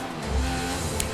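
Formula 1 cars in the F1 2014 racing game roaring by at speed, a steady buzzing engine drone with faint tire noise over just over a second.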